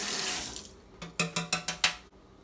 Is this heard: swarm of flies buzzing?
no